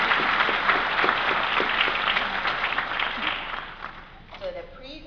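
A crowd at a Johns Hopkins Center for Talented Youth awards ceremony claps in a steady, moderately loud round of applause that tapers off near the end.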